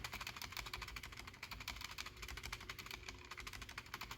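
Steady fast typing on a Razer BlackWidow V3 Mini HyperSpeed mechanical keyboard, dense overlapping key clacks running continuously, close and clear with no talking.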